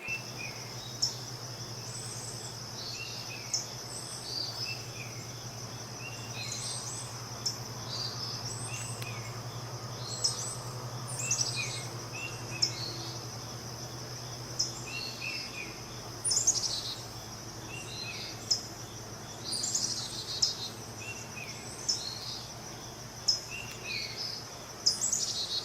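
Common starlings call in short, scattered chirps and whistles against a constant background of insect trilling outdoors, the calls coming irregularly and growing more frequent toward the end.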